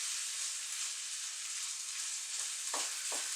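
Mince and onions fry in a pan with a loud, steady, close sizzle, joined near the end by a couple of soft scraping stirs.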